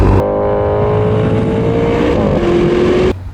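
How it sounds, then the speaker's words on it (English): A 2020 Maserati Levante Trofeo with its Ferrari-developed twin-turbo V8 accelerating hard, a loud close roar climbing steadily in pitch through one shift before cutting off abruptly. "This is also a Ferrari developed V8 BiTurbo engine."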